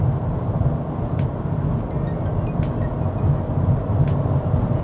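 A Volkswagen Golf TDI's diesel engine hums at around 3000 rpm as the accelerator is pressed a little further, a steady low drone heard from inside the car, with faint clicks and no speech.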